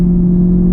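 A Chevrolet Camaro at a car meet beside a go-kart track gives a steady, loud, close engine rumble with a strong low hum, holding without a break.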